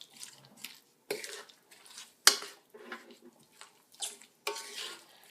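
Garlic (four cloves) and a tablespoon of ginger being stirred in a pan with wilted vegetables for sweet and sour pork, heard as intermittent scraping and soft sizzling bursts in uneven strokes, close by, with no talking.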